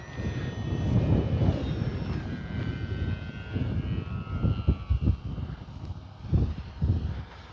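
An E-flite Sportix 1.1 m RC airplane flies and lands in wind, its electric motor whining steadily and shifting in pitch as it passes, with low gusty wind rumble and buffeting on the microphone.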